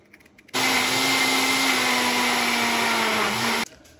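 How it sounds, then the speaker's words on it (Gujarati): Electric chopper whirring steadily as it chops onion, chilli, ginger, garlic and tomato into a paste, a loud continuous motor drone starting abruptly and cutting off after about three seconds. "ડુંગળી, મરચું, આદુ, લસણ અને ટામેટાના નાના નાના પીસ કરીને એને આપણે ચોપ કરી દઈશું."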